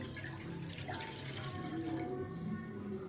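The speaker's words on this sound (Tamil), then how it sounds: "முதல்ல ஒரு பாத்திரத்தில் 1 டம்ளர் தண்ணி ஊற்றிக்கலாம்." Water from a tumbler pours steadily into a cooking vessel, a continuous splashing stream filling it as the first step of making betel leaf (vetrilai) kashayam.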